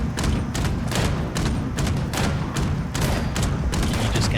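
A heavy weapon firing in Fallout 76, a rapid, loud stream of thumping shots in quick rhythmic bursts, continuous and close.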